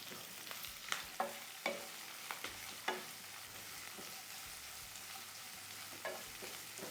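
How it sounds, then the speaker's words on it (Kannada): Chopped onions in hot oil, a steady sizzle with a run of crisp spattering pops and clicks, close and moderately loud, no voices. "ಈಗ ಎರಡು ಈರುಳ್ಳಿ ಕಟ್ ಮಾಡಿರೋಂಥದ್ದು ಹಾಕ್ತಿದ್ದೀನಿ"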